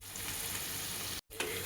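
Shrimp stirred and frying in oil for a Bengali prawn curry, a steady dense sizzle close up, broken by a brief silent gap before the frying resumes.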